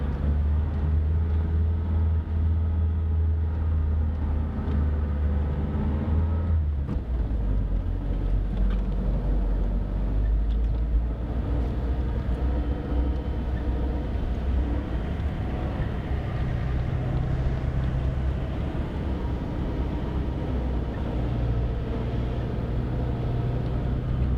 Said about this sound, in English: Beach driving, here we come.